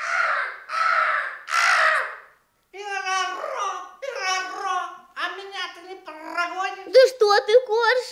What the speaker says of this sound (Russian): И ты, ворона.